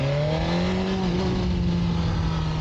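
A BMW S1000RR motorcycle with an Akrapovič silencer and otherwise stock exhaust revs loudly and close, its engine note holding a steady drone that swells slightly and then settles.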